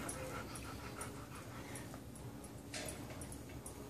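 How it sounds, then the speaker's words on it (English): Newborn puppies in a litter pant and whimper softly and continuously over a steady low background hum, with a few faint higher squeaks scattered throughout and no talking. "Wake up, puppies."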